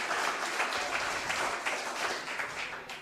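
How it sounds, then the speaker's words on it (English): An audience at a live college sports radio show claps in a brief round of applause, dense and fairly close, fading slightly toward the end. "How about a round of applause, ladies and gentlemen?"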